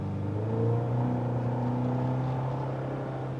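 Inside a 2024 Chevy Colorado ZR2 Bison, its turbocharged 4-cylinder engine hums with a steady mid-pitched drone that rises slightly, a continuous moderate whir heard from the cabin with no talking.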